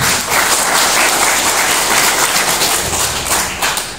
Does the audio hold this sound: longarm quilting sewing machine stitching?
no